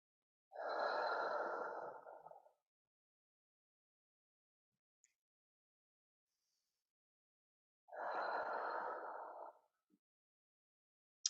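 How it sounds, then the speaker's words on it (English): Two slow, deep exhalations during a yoga forward fold, each a soft airy breath lasting about two seconds, separated by long near-silence, close and quiet. "Taking in a few deep breaths, folding from the hips, folding a little deeper."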